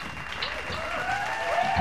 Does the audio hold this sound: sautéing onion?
no